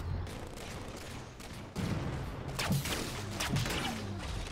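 Gunfire from a Halo 4 multiplayer match on Xbox 360, with sniper rifle shots and a few sharp bangs standing out over a dense, continuous bed of battle noise and game sound.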